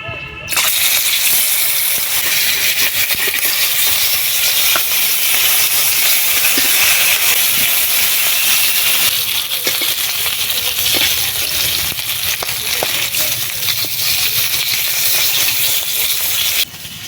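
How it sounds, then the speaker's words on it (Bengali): Fish rubbed with salt and turmeric fries in mustard oil in a wok, giving a loud, continuous, close sizzle and hiss with small pops, steady for the whole stretch. "এবারে লবণ হলুদ মাখানো মাছগুলো ভাজবো"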